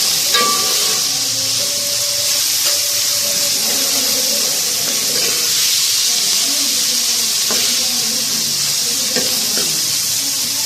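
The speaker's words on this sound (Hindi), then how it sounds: "इसको हम 2 मिनट तक इसको करेंगे फ्राई, पकाएंगे अच्छे से" Potato and capsicum cutlet vegetables fry in a pan with a loud, steady sizzle and hiss lasting throughout, punctuated by occasional scraping stirs, close up and alone without talk.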